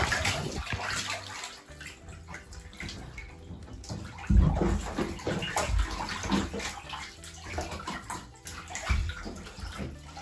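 Ducklings splash and paddle in shallow bath water, giving continuous sloshing and watery patter with a few louder splashes along the way.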